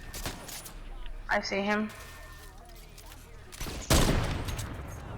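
Gunfire in a shooter video game with bomb squads, a few bursts of shots, including a loud one near the end, under a player's brief speech.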